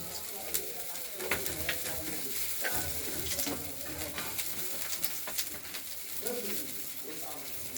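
White cumin seeds crackle and sizzle in hot oil, a dense, continuous frying hiss with stirring clatter up close, while birds coo faintly in the background.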